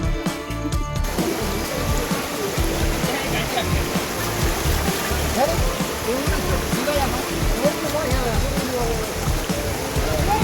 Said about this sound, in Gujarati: ઝરણાની મોજ છે એ બધા લઈ રહ્યા છે અને પાણી જોરદાર વહી રહ્યું છે